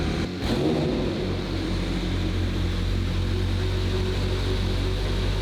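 A small methanol-fuelled engine catches after a brief burst and settles into a steady, droning run that continues evenly to the end.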